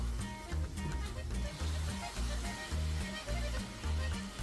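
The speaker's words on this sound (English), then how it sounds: "I'm going to break the meat apart and stir every once in a while to make sure it cooks and browns evenly" Minced beef with garlic and spices frying in a pan, stirred and broken apart for chili con carne; a steady sizzle runs throughout, with low rhythmic thumps and clatter from the stirring, close and moderately loud.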